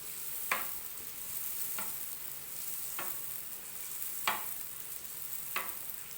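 Khajla frying in oil in a kadai, with a steady sizzle throughout and oil ladled over the dough; sharp scraping strokes of the ladle land roughly every second or so, close by.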